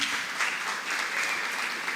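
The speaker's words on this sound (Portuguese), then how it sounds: "Vamos receber todos eles com uma salva de palmas." Audience at a theater company's graduation ceremony giving a round of applause, an even, continuous wash of clapping at moderate volume with no voices on top.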